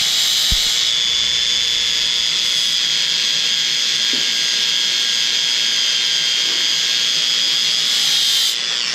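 A bench grinder with adjustable speed sharpening a plane blade, a steady loud high-pitched whine and grinding hiss running continuously, with a few faint clicks and no talk.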